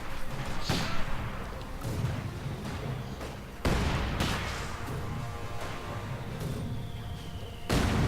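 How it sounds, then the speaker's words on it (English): Mortar fire from a German mortar half-track in a video game: a few heavy booming impacts spaced several seconds apart, each followed by a rumbling tail over low background battle noise. "they realise they are under fire from the German mortar half-track"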